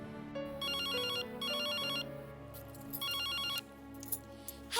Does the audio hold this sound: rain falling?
no